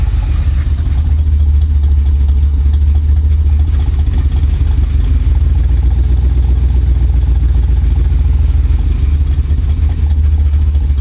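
A 1985 Chevy Corvette V8 runs loud and close with a deep, steady rumble that swells slightly as it revs, the tone staying smooth without clear breaks.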